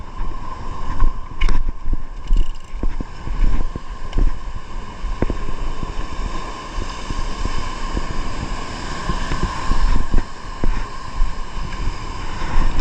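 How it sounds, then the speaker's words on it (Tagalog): Strong wind buffets the microphone while waves slosh and break nearby during late-afternoon fishing, a constant rough roar broken by irregular thumps and splashes, with no voices. "lakas ang alon"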